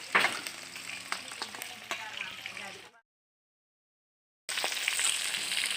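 Fish fries in hot oil in an outdoor cooking spot, giving a close, crackling sizzle with stirring sounds. The sizzle cuts out completely for about a second and a half, then returns just as strongly.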